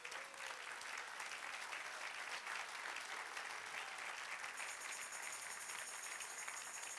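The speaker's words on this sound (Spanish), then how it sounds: "Dale un aplauso al Señor" A church congregation applauds during a sermon, producing a continuous wash of clapping heard faintly and at a distance, steady throughout with no talk on top.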